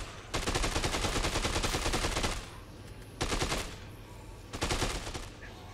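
Rapid automatic gunfire in the video game Dead Rising 2, heard as three sustained bursts of machine-gun fire with short pauses between them.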